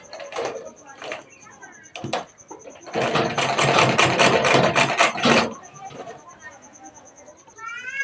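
Sewing machine stitching fabric to attach piping on a blouse, with short starts followed by a steady rapid whirring run of several seconds, close and loud, then stopping amid faint background sounds.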